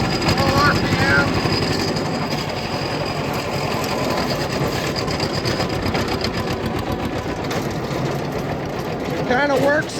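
Farm tractor engine running at full RPM while driving the PTO during corn planting, a loud, steady rattling drone that fills the whole stretch with dense mechanical chatter, with a voice speaking over it.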